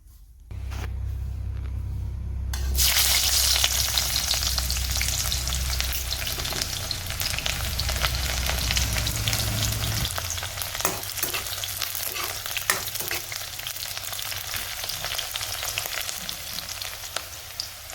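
Chopped onions hit hot oil in a kadai with a sudden loud crackle, then a steady close sizzle and hiss under a low rumble, with stirring clinks as it eases later; no talk.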